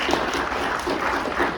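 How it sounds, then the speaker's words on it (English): Audience applause filling a hall at a ham radio section convention, a steady dense wash of many hands clapping at moderate loudness throughout the short stretch. "You don't have to clap."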